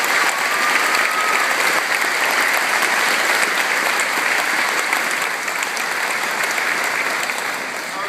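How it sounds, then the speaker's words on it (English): A graduation audience in a hall applauds continuously, a dense, even roar of many hands clapping at once that holds steady throughout with no talking over it. "Give them a big round of applause."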